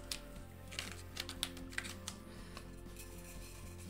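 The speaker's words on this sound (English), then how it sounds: "now I'm going to slowly pull off the edge of my vinyl here" Self-adhesive craft vinyl is slowly peeled from its backing paper while making a necklace holder, giving faint, close crackling ticks and small snaps scattered over about four seconds against a quiet room hum.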